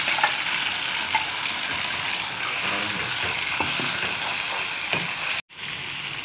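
Onions and bay leaves, then a ground spice paste, sizzle steadily in hot oil in a wok, a close, dense crackle with faint stirring scrapes that cuts off abruptly near the end, no voices.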